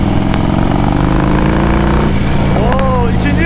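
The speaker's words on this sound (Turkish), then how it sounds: "Bak gazı bırakınca egzoz nasıl bağırıyor" A 1700 cc Harley-Davidson Heritage motorcycle exhaust roars loudly and steadily, with a rising whine near the end as the throttle is released.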